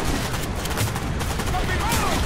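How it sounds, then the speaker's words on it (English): Shotgun blasts in the Black Ops video game, several dense booming shots layered over constant battle noise and gunfire, loud throughout. "This is such a nice shotgun."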